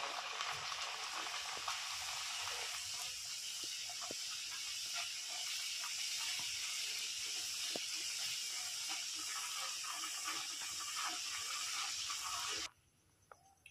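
Beetroot luchi deep-frying in hot oil gives a loud, dense, continuous bubbling hiss that holds steady for about twelve seconds, then cuts off abruptly, leaving near silence and a couple of faint clicks.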